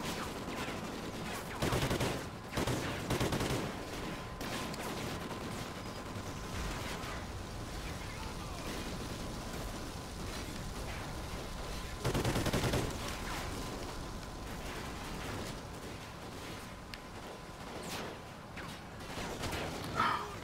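Gunfire from the Call of Duty Ghosts video game on PS4: sustained, dense firing throughout with two louder bursts early and midway, under faint game ambience.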